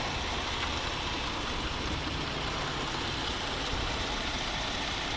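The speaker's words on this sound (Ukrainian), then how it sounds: "Ось робота двигуна." A 2019 Jeep Grand Cherokee Overland with a naturally aspirated 3.6-litre petrol engine idles steadily, a smooth even rumble held throughout at close range with no speech over it.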